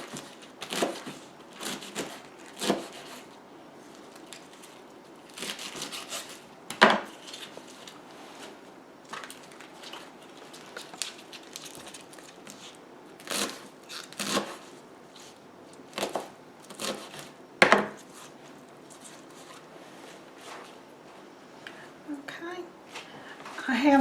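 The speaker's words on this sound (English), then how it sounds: "take your collard greens, put them in there, roll them up, give them a chop" A knife chopping rolled-up collard greens on a board for Southern-style greens: a series of sharp, separated chops spread irregularly through the clip, heard close, with a person talking in between.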